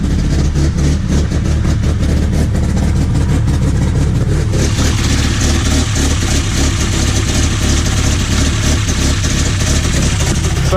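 A 12-valve Cummins engine in a box truck idles loudly and close, a continuous deep rumble that stays steady for the whole stretch.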